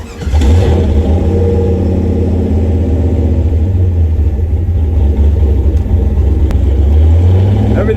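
Car engine fitted with VSR Gen 3 44mm wastegates revving and rumbling loudly and steadily up close, a deep sustained drone with a brief swell near the end.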